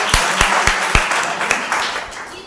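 Church congregation at a Sunday service clapping for a member, a burst of scattered, uneven handclaps with several sharp louder claps standing out over a crowd-noise wash, fairly close and steady for a couple of seconds.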